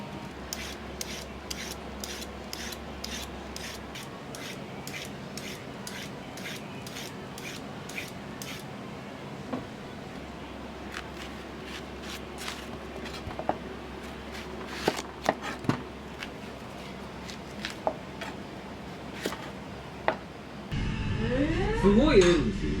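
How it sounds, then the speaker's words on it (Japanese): Quick, crisp knife taps on a cutting board as vegetables are finely minced in a ramen shop kitchen come in irregular bursts, fairly faint against a quiet room, with some clatter near the end. "この野菜をみじん切りにして入れて味噌かけて"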